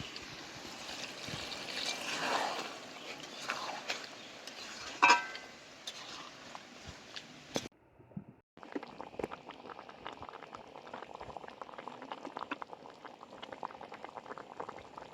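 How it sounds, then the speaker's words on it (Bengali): Chicken bubbles in a pan after water is added, a steady, moderately loud boiling hiss with gurgles and a brief lid or pan clatter midway before the simmer resumes. "এবার একটু আমি জল দিয়ে ভালো করে চিকেনটা কষতে থাকবো।"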